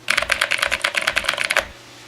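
Rapid, crisp clicking keystrokes on a Dolch PAC 486 keyboard with Cherry switches, a steady burst of close typing for about a second and a half that then stops abruptly.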